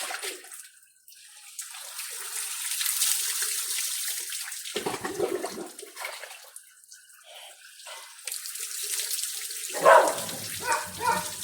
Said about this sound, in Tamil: தண்ணி ஊற்றும்போது